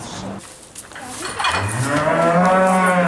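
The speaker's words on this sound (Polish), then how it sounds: "To krowy są takie wielkie?" A cow on a farm lets out a long, loud, close moo that swells and holds steady for a couple of seconds after a softer, rougher start.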